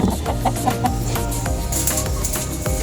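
Native chickens in a rooftop garden cluck and chatter close by, with repeated short calls over a dense, continuous backdrop.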